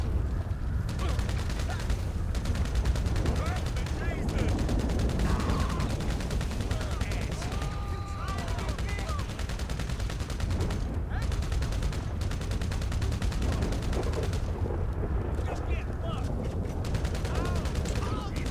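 Rapid gunfire in GTA Online, continuous bursts of shots and automatic fire over a dense, busy game soundscape lasting the whole stretch, loud and close.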